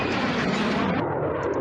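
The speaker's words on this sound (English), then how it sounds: "Yeah, that's what it sounds like. A jet." A jet airplane at an airport gives a loud, steady roar with broad hissing noise, close and sustained, with no talking.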